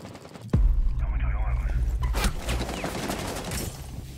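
Gunfire erupts in a Rainbow Six Siege match, a sharp blast followed by a loud, dense burst of shots and echoes, with players talking over it.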